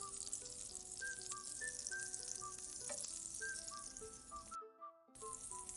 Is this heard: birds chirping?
no